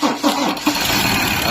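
A Ford Ranger 3.2 diesel with fault code P2291, injector control pressure too low, cranks in a few uneven pulses and then fires into a loud, steady run close by.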